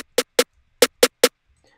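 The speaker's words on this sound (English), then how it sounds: "this regular snare drum sounds like this by itself." A plain snare drum without processing, hit alone: two quick strikes, a pause, then three more evenly spaced hits, each crisp and short with quick decay, close and dry.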